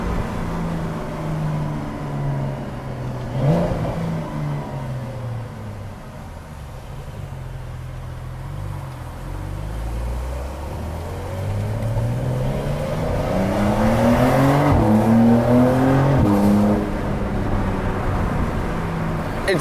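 A Porsche 911 Carrera 4S engine pulls under light throttle, its note climbing in pitch and swelling louder as the car accelerates, with a brief dip and a steady rise toward the end, heard from inside the car.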